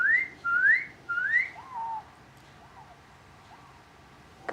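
A person whistles rising, warbling notes that imitate a parent kiwi calling to a hatching chick. Three loud close whistles come first, followed by several softer falling calls.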